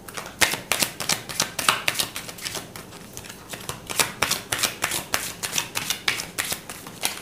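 A deck of tarot cards is shuffled by hand in a quick, rhythmic series of crisp riffles and taps, close and continuous for several seconds with no talking.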